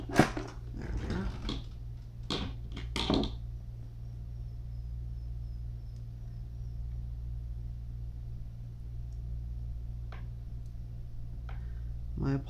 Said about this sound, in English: My apologies if you can hear that dog in the background.